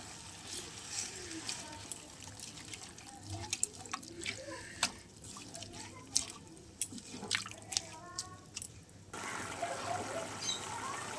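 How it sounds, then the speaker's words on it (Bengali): Water is poured into a spinach and fish curry in a pan, faint dripping and trickling with scattered splashes, followed by a steadier wash near the end, under soft kitchen background. "চলো এবার অল্প জল দিয়ে দিই"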